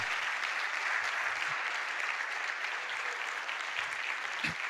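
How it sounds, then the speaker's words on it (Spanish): A church congregation claps during a sermon, a dense, steady applause that stays even and fairly full for the whole stretch with no break. "¿Cuántos le dan un aplauso al Señor?"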